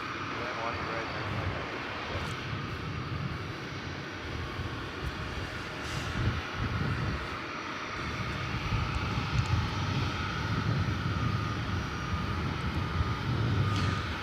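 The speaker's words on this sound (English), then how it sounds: "Boeing 777 pilot says a Qatar Airways 777 is taxiing now." A Qatar Airways Boeing 777 taxiing at DFW Airport at night, a steady distant jet engine whine and rumble that swells slightly toward the end, heard from a spotting position.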